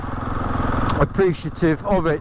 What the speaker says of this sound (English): I do like the sound of that exhaust.